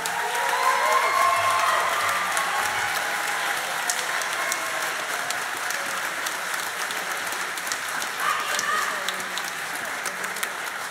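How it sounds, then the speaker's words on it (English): A concert crowd at a high school spring band performance applauds the seniors with sustained, dense clapping, a few cheers rising above it, and a faint voice or two early on. "Give them a huge round of applause."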